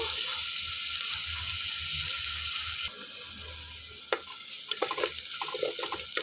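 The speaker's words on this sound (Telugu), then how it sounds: "వేగిపోయాక ఆనియన్స్ వేసేసుకొని వేయించేసుకోవాలి కరిగి పెట్టుకున్న పచ్చిమిరపకాయలు కూడా వేసుకొని మంచిగా వేయించేసుకోవాలండి" Onions and green chilies frying in a pan for a country-chicken gongura curry, giving a steady broadband sizzle that dips partway through, then a few sharp scrapes and stirring clinks near the end.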